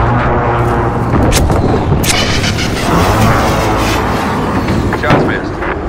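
Artillery strike in a military video game, a rapid series of heavy booming explosions rumbling close and loud, with voices over the barrage.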